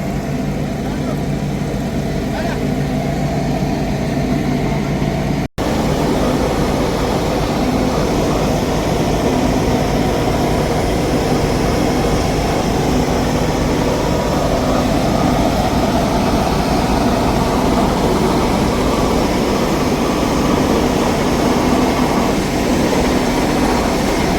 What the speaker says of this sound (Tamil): இன்ஜின் தான் அந்த கம்ப்ரஸரை இயக்குது